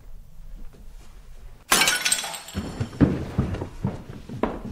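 A drinking glass smashes suddenly and loudly, followed by a scatter of tinkling shards and a few heavier clinks as pieces settle, heard without any talking.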